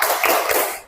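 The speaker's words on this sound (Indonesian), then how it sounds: "Kita tepuk semangat." A group of students claps a quick spirit chant in a classroom, a brief burst of close, rhythmic hand claps lasting under a second.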